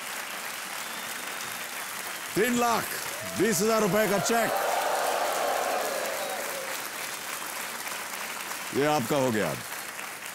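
Loud studio audience applause on the game show KBC India rolls on steadily while someone talks over it in bursts.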